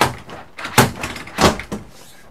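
A shower door in a Grand Design 16ML travel trailer is slid and pushed shut, giving several hollow thumps and knocks spread over about two seconds, fairly close and without talk.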